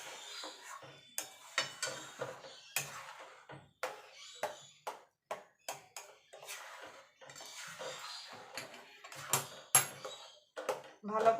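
Spoon scraping and clinking against a pan while a sandesh mixture is stirred and cooked down, irregular close metallic knocks and scrapes throughout, with a voice speaking between strokes.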